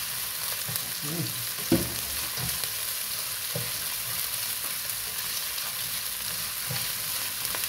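Garlic, onion and ginger sizzle in hot oil in a pan, a steady soft frying hiss with occasional stirring scrapes, fairly quiet and without talk.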